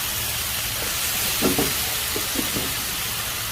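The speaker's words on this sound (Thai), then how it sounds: "คนหมูกับเครื่องแกงให้เข้ากันค่ะ" Small chopped pork bones are stir-fried with curry paste in a hot pan. A constant soft sizzle fills the background, broken by a few brief scraping stirs near the middle.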